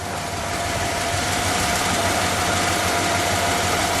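Smooth, quiet idle of a 1962 Chrysler Newport convertible's 361 V8, a steady even hum with a faint tonal whine, continuous and unchanging from start to finish.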